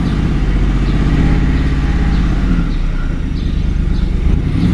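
A Ford F-150 truck with a 4.6 engine runs loud and close after repair work, a steady rumbling idle with throttle pushing it into a slightly raised, even roar for several seconds, no voices.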